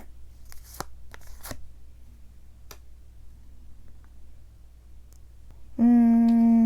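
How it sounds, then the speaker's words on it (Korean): Tarot cards are shuffled and drawn by hand in a quiet room, giving a few sharp papery snaps and flicks spread over several seconds, then a steady tonal hum cuts in near the end. "추가 카드를 좀만 더 뽑아볼게요."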